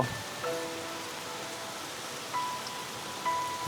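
Steady rain falls on a cloudy monsoon day in rural Bangladesh, a soft continuous hiss with faint scattered drips and a few brief tonal sounds, no talking.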